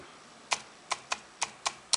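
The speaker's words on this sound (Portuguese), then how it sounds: "Teste de digitação" Typing on an iPhone touchscreen keyboard, six quick, soft clicking taps spaced irregularly over a faint hiss, close and quiet with no talk.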